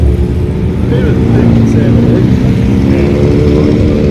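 Motorcycle engine, likely a Harley, rumbling loud and steady close by for a few seconds with a deep low throb and no speech over it.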